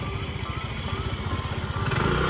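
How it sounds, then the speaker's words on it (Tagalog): A motorcycle engine runs steadily and close by on a rural road past vegetable plots and rice fields, its low pulsing putter holding fairly loud through the whole moment as it pulls away. "Ayan, nakamotor pa yan siya"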